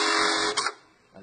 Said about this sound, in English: the machine should cycle and not lock off again